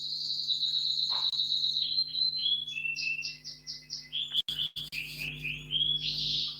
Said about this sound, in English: There are birds in the background.